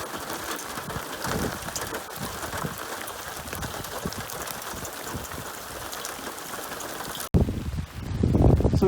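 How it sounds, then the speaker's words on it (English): Steady rain falling outdoors during a public-land duck hunt, a dense even hiss of drops hitting water and surfaces, with a brief louder rustle near the end and no talking. "this rain is really filling it up pretty good"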